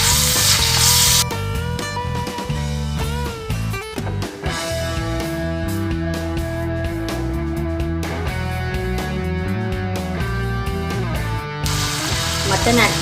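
Mutton pieces fry in a pan for mutton pallipalayam, a steady loud sizzle throughout with a brief stir partway through, close and continuous.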